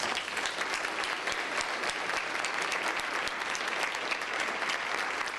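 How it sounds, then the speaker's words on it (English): Audience at a Tomball chamber of commerce board installation gives a dense, continuous round of applause, loud and even from start to finish with no break. "these two deserve a big thank you and a round of applause"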